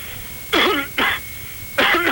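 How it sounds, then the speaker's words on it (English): Three short, harsh throat-clearing coughs close by, separated by brief pauses, with a faint steady hum in the background. "Cough somewhere else, please."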